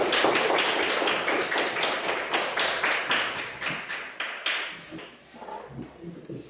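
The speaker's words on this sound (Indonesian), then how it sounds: "Berikan tepuk tangan." Classroom applause after a student group finishes presenting its discussion results, many hands clapping briskly and evenly before thinning out and trailing off into scattered claps and faint voices.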